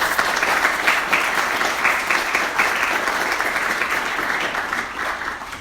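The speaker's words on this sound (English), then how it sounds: "So please give Dr. Belsky a round of applause." Audience applause at a lecture on Russia's war against Ukraine, a steady, dense clapping from a full room that carries on evenly and close throughout, with no voices over it.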